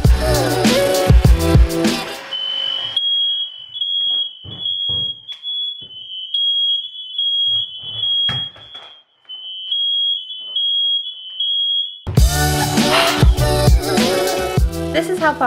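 Smoke alarm set off by heat-gun paint stripping on an old door in a Victorian house renovation, sounding as a loud, sustained high-pitched tone that runs for about nine seconds, with intermittent clatter and movement beneath it, between louder music passages.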